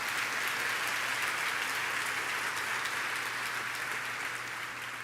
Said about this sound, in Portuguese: pode dar uma salva de palmas assim